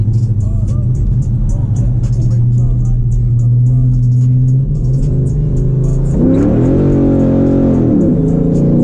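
A cammed Dodge Charger R/T rumbles loudly while driving, its lumpy engine note steady at first and then rising sharply as the throttle opens.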